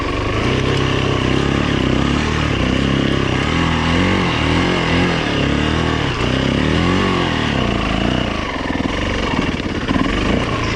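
A 2008 Yamaha WR450F dirt bike is ridden hard, the engine roaring and revving up and down continuously and loudly at close range, with no speech.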